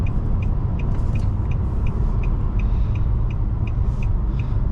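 A 2020 Nissan Maxima SV pulls hard on a 0 to 60 run, a steady loud engine roar heard from inside the cabin with a regular ticking chime over it.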